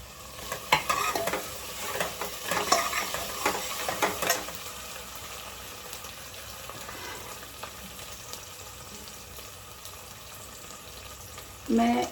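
Onions sizzle in a hot pan while a spoon scrapes and stirs in short bursts, then the frying settles into a low steady hiss, with a brief louder clatter right at the end.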